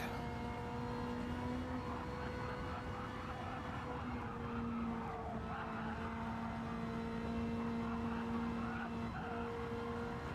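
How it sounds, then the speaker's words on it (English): A small Honda Civic engine revs steadily during street-car racing, giving a faint, continuous drone with a sustained whine over a long, even stretch. "It's a revvy little engine there."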